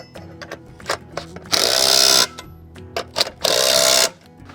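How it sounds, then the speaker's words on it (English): A power tool drives a nut down onto a lock washer on a rooftop duct support base, in two loud, even bursts of about half a second each, separated by small clicks and handling noises. "We'll tighten that down until the lock washer is flat."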